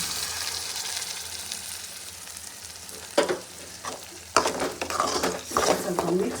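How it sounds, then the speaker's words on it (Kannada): Ground masala hitting a butter-and-onion base in a pan for paneer butter masala, a steady close sizzle with sharper bursts and stirring scrapes as the paste goes in. "ಸೊ ಇದಕ್ಕೆ ಇವಾಗ ರುಬ್ಬಿರೋ ಮಸಾಲೆ ಹಾಕೊಳ್ಳೋಣ."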